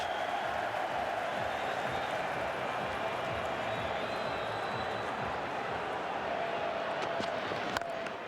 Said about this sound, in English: They're on their feet cheering a drop catch.